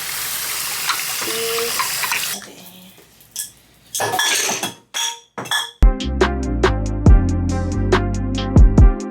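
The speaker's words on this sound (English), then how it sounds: "I'm washing up" Items are washed up under a running tap, with scattered clinks, then a bright run of glass and dish clinks ringing over gushing water, close by. Someone speaks briefly.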